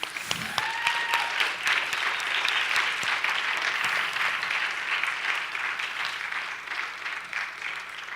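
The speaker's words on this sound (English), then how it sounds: "So you can give it a round of applause to the Craft Collective." An audience claps for the Craft Collective at a talk, a dense, steady round of applause sustained for the whole stretch at a fairly close, even level, with a brief whistle-like tone near the start.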